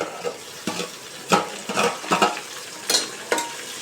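Onions, ginger-garlic paste and chopped tomatoes for mushroom biryani are stirred and fried in a pan, a spoon scraping in uneven bursts over a soft sizzle, close and fairly loud with no voices.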